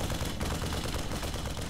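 Rapid gunfire crackles steadily through a StarCraft 2 battle as a Marine is sniped from high ground, dense overlapping shots filling the whole short stretch at a constant loud level.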